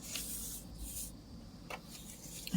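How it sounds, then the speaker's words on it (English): An aerosol spray can mists sheets of paper being prepared for handmade tags, giving soft hissy bursts that come and go, fairly close and moderately quiet, with no talking. "I'm going to spray all these more. I think I need more spray."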